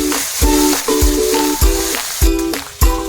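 Spice paste frying hard in a pan over browned onions for a country duck curry, with a loud steady sizzle and regular spatula scrapes roughly every half second, close up.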